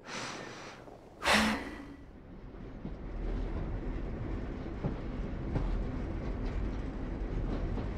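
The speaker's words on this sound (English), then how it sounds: "Train." A train passing in a game, with a sharp burst of sound early on followed by a steady, rumbling wash of rail noise that continues to the end; no talking.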